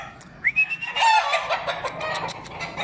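A jabao gamecock crows nearby in one hoarse, drawn-out call, with a few clucks and faint background noise around it.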